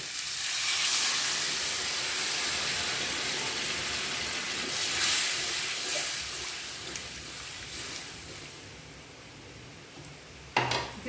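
Hot water goes into a pan of potatoes frying with milk and spices, raising a loud, steady steamy sizzle and hiss that slowly settles, ending in a short clatter near the close, with no voices.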